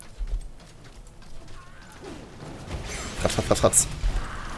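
A horse mount gallops in the Heroes of the Storm video game with muffled hoofbeats that rise toward the end, along with game effects, while someone talks over it.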